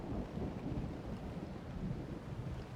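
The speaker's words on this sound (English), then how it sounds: "We got thunder." Thunder in the naval game Naval Action rolls on as a continuous, loud low rumble mixed with steady rain-like noise, with no talking over it.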